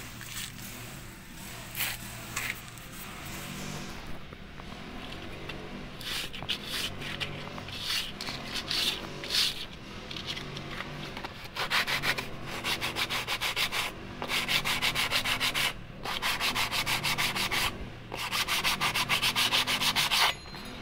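Sandpaper rubbed by hand across a car brake rotor, a close, rhythmic scratchy scrubbing in repeated back-and-forth strokes that grows louder and more regular over about twenty seconds.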